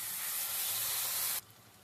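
Ground spice paste dropped into hot oil already warming with cardamom and cinnamon, a loud sharp hiss of sizzling for over a second that cuts off abruptly to a faint simmer.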